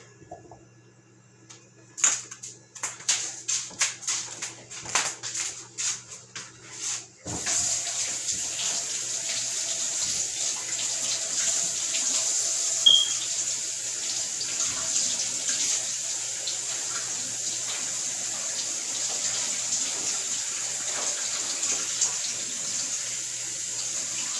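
Smoothie ingredients are rinsed under a running kitchen tap, with a few clatters and handling knocks at first, then a steady continuous stream of water splashing on and on.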